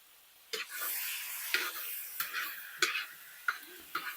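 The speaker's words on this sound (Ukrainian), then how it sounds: "обжаримо м'ясо" Meat is stirred while it fries in a pan: an even sizzle is punctuated by roughly six sharp scraping strokes at an uneven, unhurried pace, heard up close.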